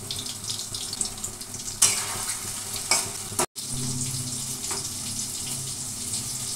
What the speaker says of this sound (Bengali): আমার পটলগুলো সব ভাজা হয়ে গেছে